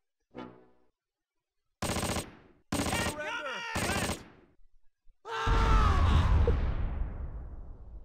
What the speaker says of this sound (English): That was a rather nice first shot of artillery.